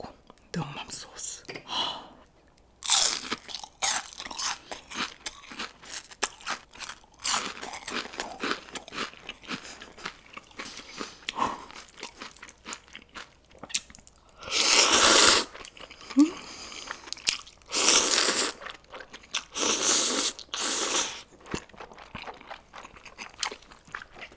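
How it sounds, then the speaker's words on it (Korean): Loud, close crunches of biting into and chewing a crispy deep-fried Vietnamese spring roll (cha gio), in bursts with quieter soft whispering and mouth sounds between bites. "자 여기에는 짜조를 한번 들어서 일단 한입 먹어볼게요"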